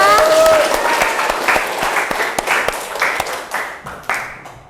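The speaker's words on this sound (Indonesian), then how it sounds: "Tepuk tangan untuk kita semua." A classroom group applauds together, loud rapid clapping that fades toward the end, with a few brief voices at the start.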